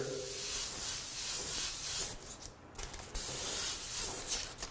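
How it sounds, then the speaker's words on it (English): A paint spray gun hisses grabber orange paint through a stencil on a drag racing boat, a close steady spray with a short pause in the middle before resuming, and no talking. "You don't need to spray the whole thing, but you do a little fade from the front like that"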